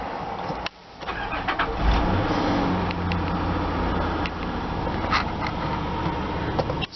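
A 2002 Nissan Pathfinder with 82,000 miles cranks briefly, catches and starts right up, then settles into a steady, smooth idle with a low even hum, heard close and alone.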